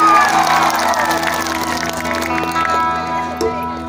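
Concert crowd at an Adivasi gathering in Dhekiajuli, Assam, applauding and cheering the lead guitarist, loud clapping and shouts over sustained band tones that swell at first and gradually thin out.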